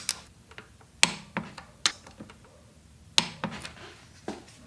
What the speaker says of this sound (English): we'll go ahead and torque these bolts down to 20 foot-pounds